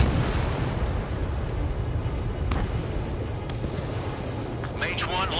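A missile launch in the Ace Combat 7 video game, a sustained roaring rush of jet and rocket noise, loud and continuous, with a brief radio-style voice near the end.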